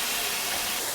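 Steam hisses steadily as water goes into semolina cooking for upma, a continuous broadband sizzle held close and fairly loud for a second with no other sounds.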